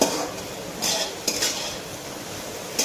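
Okra (bhendi) is stirred and mixed in a pan with a utensil, giving a soft continuous sizzle broken by a few scraping, clinking strokes against the metal, close and moderately loud with no voices.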